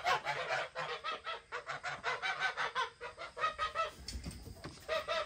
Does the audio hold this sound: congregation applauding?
no